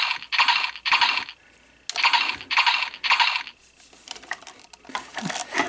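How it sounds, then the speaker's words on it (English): A CSM Kabuto Zecter toy belt plays a bright clattering electronic effect in quick doubled bursts, like hoofbeats, pausing and repeating several times at close range with no one talking. "it does kind of a weird, almost galloping noise"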